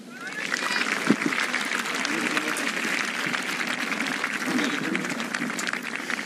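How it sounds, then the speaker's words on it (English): A golf gallery at the 2017 Open Championship roars and applauds for Rickie Fowler's par, a sustained, dense wash of cheering and clapping that stays loud and steady across the whole stretch, with scattered shouts inside it. "Big cheer for his par."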